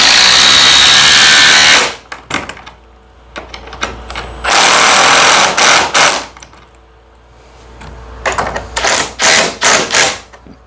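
A DeWalt DCF860 impact driver hammers loudly in sustained bursts while loosening a bolt, with short rattling pulses and pauses between runs, close and dominant.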